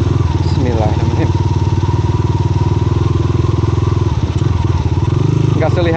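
A motorcycle engine drones steadily and loud while riding a narrow mountain road, with a rough pulsing rumble, occasional clatter and bumps, and someone talking over it.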